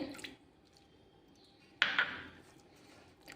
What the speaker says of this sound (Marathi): याच्यामध्ये आपल्याला थोडं थोडं करत पाणी टाकायचं आहे